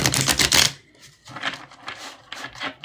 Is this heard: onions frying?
no